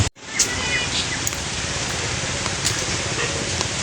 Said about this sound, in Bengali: আর দেখেন বৃষ্টি নেমে গেছে